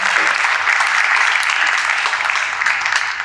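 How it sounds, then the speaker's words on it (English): Audience applause for two panelists at a tech debate summit, a steady dense wash of clapping that holds loud and even for the whole stretch with no talk over it. "Let's have a round of applause"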